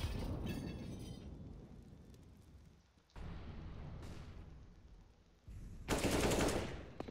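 Gunfire from the video game CS:GO during a competitive esports match: dense bursts of rapid automatic spray and shots, loud and continuous, with a brief lull before a final intense volley.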